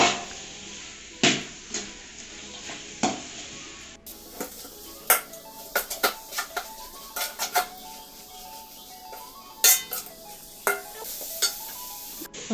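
A spoon stirs a Malappuram-style biryani masala of onion, tomato and spice powders in a pot, making repeated metallic scrapes and clanks over a low sizzle, irregular and close, with no talking.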